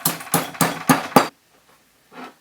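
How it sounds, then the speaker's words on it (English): Green shale rocks are pounded in a mortar and pestle, giving five loud, evenly spaced crunching knocks close by, then a pause and one softer grind. "I'm going to take these rocks, a small handful, and I'm going to mash them in my mortar and pestle."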